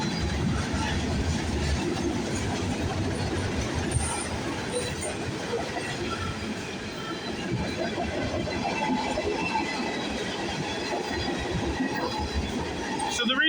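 A VIA Rail passenger train detouring on the CN Halton Subdivision in Ontario rolls past close by, a loud sustained rumble of wheels on rail with a faint high squeal and steady clatter throughout.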